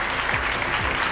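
Applause at the end of a robotics competition match for two teams at the Coupe de France de Robotique finals, a steady dense wash of clapping filling the whole short moment.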